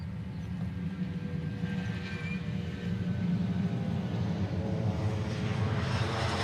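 Steady roar of a Hawaiian Airlines jet airliner, flight 990, departing for Seattle, heard from a distance as a broad continuous rumble that swells slightly partway through, with no voices.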